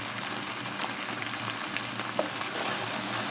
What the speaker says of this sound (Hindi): प्याज और अदरक लहसुन पेस्ट अच्छे से फ्राई हो चुका है।